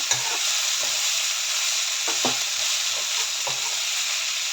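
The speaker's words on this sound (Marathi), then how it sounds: "ते यावरती घालायचे आणि मस्त मस्तपैकी याला मिक्स करून घ्यायचं" Soaked poha being stirred into vegetables in a pan, with a spoon scraping in a few distinct strokes over a steady background sizzle. The sound is close and moderately loud, with no talking.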